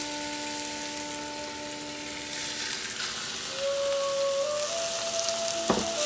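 Food browning in a little oil in a pot on a stove at medium-high heat, a steady close sizzling hiss throughout that swells slightly toward the end, with no talking.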